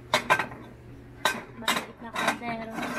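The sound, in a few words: metal cooking pots being handled at a kitchenware stall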